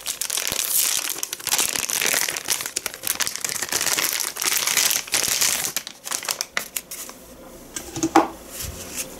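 A dark, partly translucent plastic packet holding a laptop battery for an ASUS Eee PC 1001PXD, crinkled loudly and continuously up close, easing to softer rustles near the end.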